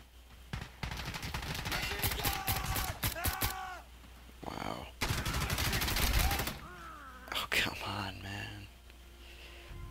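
Scattered gunfire pops from an Insurgency Sandstorm match, including pistol shots, come in short clusters beneath frequent quiet talking and game voice chatter.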